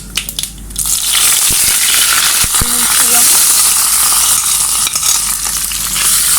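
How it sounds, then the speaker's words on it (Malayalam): Mustard seeds hit hot oil for a Kerala-style kovakka kudampuli curry, a loud continuous sizzle laced with sharp crackling pops throughout. "കടുക് ഇട്ട് പൊട്ടുമ്പോഴേക്ക് നമുക്ക് കറിവേപ്പിലയും"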